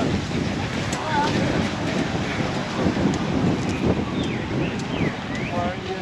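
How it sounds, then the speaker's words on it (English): Strong wind buffets the microphone on a beach in Brazil, a constant roaring rush with gusts, continuous and loud, blending with surf. "Super windy."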